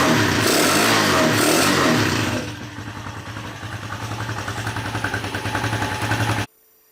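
An old tractor engine with a freshly worked carburetor runs loud and close, first revving hard, then dropping to a steady, throbbing chug before cutting off abruptly.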